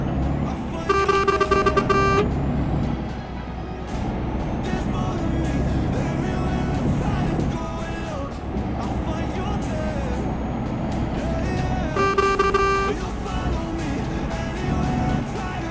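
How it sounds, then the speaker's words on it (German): Truck horn in Euro Truck Simulator 2 sounding in two short bursts several seconds apart, a bright toy-like toot over steady engine drone, with someone talking over the game. "Die Hupe klingt auch wie so ein Spielzeug."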